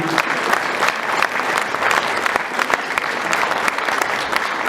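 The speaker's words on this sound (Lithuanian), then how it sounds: "plojimai marčiai" Audience applauding at an awards ceremony, a sustained round of even clapping from a sizable crowd, full and steady for several seconds with no voices over it.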